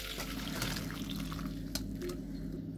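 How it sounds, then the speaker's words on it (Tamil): Water from boiled brinjals being drained off through a strainer, a steady soft pouring and trickling with a few drips, close by and continuous, no voices. "அந்த ஸ்டேஜில் நம்ம வடிகட்டிடலாம்"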